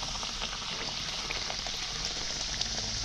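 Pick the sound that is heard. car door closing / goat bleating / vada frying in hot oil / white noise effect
vada frying in hot oil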